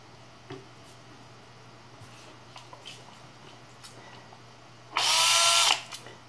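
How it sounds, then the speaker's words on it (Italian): A power drill with a screw fitted in it whirs loudly for about a second after a stretch of faint clicks and handling noises, while fixing an E3D V6 clone heat break. "Fissate la vite nel trapano."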